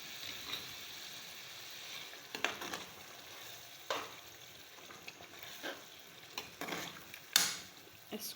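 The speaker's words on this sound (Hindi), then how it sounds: "अब मैं इसमें ये बैंगन डालूँगी।" Eggplant goes into a pan of sizzling fried spice masala for baingan bharta, a soft low sizzle broken by several sharper bursts of stirring and scraping, fairly quiet and close, with no speech.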